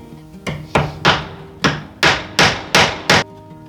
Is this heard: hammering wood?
yes